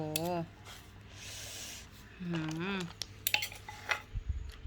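Coarse pounding of spice ingredients in a mortar, outdoors in a rice field while preparing charcoal-baked chicken, heard as a few scraping, knocking strikes toward the end, with people talking loudly over most of it.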